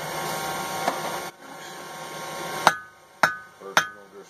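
A hammer strikes hot steel while forging a taper on a hand tool, three sharp ringing metallic blows with resonant decay following a stretch of background hum.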